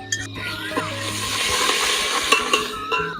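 Cumin seeds and ginger paste crackle and sputter in hot oil for a chicken curry, with spoon scrapes and clanks against the pan over a steady close sizzle.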